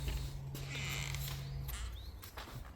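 Backyard gate creaks open at a house, a few drawn-out squeaky hinge groans over faint outdoor background, close and fairly quiet.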